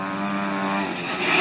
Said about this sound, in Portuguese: deixar a moto passar.